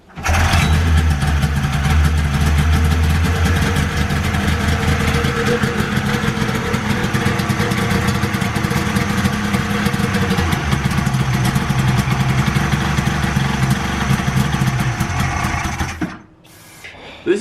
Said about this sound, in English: we'll start giving it some nice good gas, and it runs and idles good